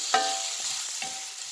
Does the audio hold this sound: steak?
yes